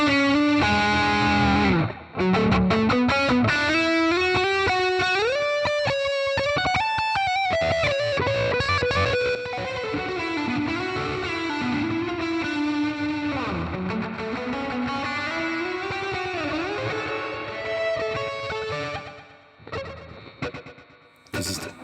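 Electric guitar played through a Joyo Preamp House on its Friedman high-gain amp setting, heavily distorted chords and sliding lead lines ringing loud and continuous, trailing off into a few clipped bursts at the end.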